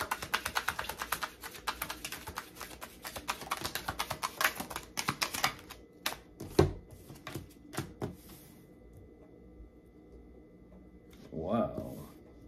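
Tarot cards are handled and shuffled, making rapid papery flicks and riffles for about five seconds, then sparser taps and slides, with a brief rustle near the end.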